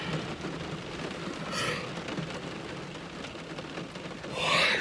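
Steady rain patters on a parked car, close and continuous, with a couple of brief louder swells as heavier gusts of drops hit the body; no one speaks.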